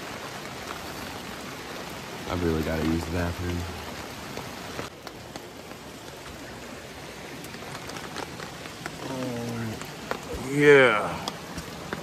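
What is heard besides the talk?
rain falling during winter camping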